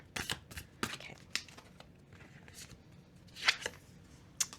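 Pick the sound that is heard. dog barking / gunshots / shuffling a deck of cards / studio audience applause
shuffling a deck of cards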